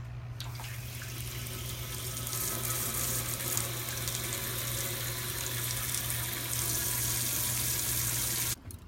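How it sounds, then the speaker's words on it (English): Tap water runs steadily into a pan as it fills, a continuous close splashing rush with a low hum beneath, stopping abruptly at the end. "as I get that pan of water filled up and put in there"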